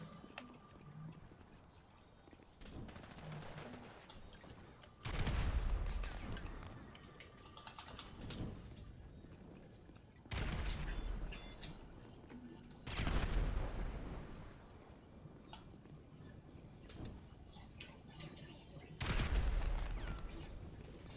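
Gunfire in a multiplayer shooter game, bursts of loud shots and fusillades at intervals over keyboard clicks, with people talking intermittently alongside.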